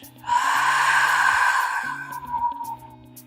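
A long, steady breath out during a Pilates breathing exercise, close and breathy, lasting a couple of seconds before fading, with soft music underneath.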